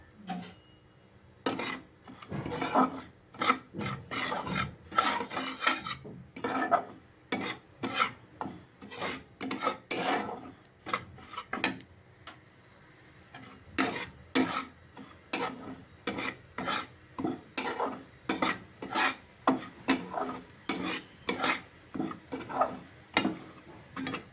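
Dry semolina is stirred quickly in a hot wok for upma, producing a dense run of rasping scrapes and clinks of the utensil against the metal, steady and close, with no voices.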